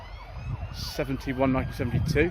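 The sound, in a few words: police car siren at classic car show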